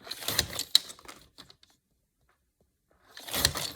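Scissors cut paper pieces glued onto cardstock for a junk journal page, making quick crisp snipping and rustling bursts up close, then a pause of near silence before another burst of cuts.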